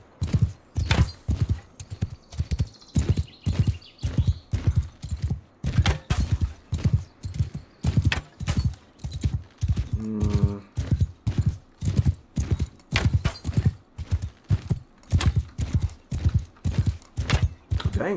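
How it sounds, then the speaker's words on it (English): Horse hooves gallop in rapid, steady clip-clop beats throughout a riding-and-archery track in the medieval combat game Mount & Blade II Bannerlord, loud and close, with a brief creak or whinny midway. "Mount the horse."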